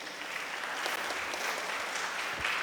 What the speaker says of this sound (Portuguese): Uma salva de palmas para a Dona Luci.